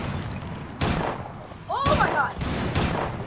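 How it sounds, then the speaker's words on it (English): Blasts rip through the city in the Roblox game Disaster City as loud, broad bursts of explosion noise go off in quick succession. A squeaky, whistling effect sounds between them, and a player's voice is briefly heard. "Everything's exploding."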